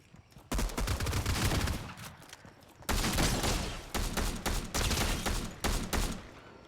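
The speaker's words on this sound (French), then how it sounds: "Mais il tire sans s'arrêter, le mec." Continuous automatic gunfire in the Fortnite video game, long loud bursts of rapid shots that run almost unbroken, with a short lull before the firing resumes in several sustained volleys.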